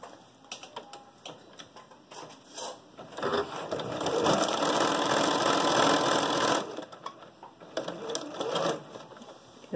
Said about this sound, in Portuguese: E vamos à máquina passar uma costura aqui em toda a volta.